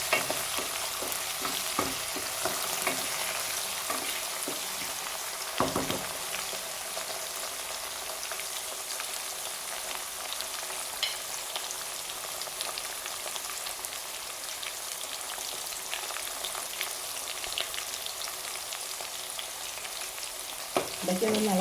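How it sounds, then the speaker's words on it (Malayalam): Green chilies, ginger and curry leaves sauté in a pan for pickle, a continuous close sizzle and crackle with occasional stirring scrapes, steady throughout and without talk. "പച്ചമുളക്, ഇഞ്ചി, കരിയാപ്പില അതെല്ലാം കൂടെ ഒന്ന് മൂത്ത് വരണം."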